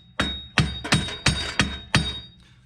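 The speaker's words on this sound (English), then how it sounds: "I've upped my hammer here, so this is a small 3-pound mallet." A small 3-pound mallet strikes the front hub of a Nissan 370z during a hub bearing job, six loud, sharp metallic blows at a steady, slightly uneven pace, close with ringing decay.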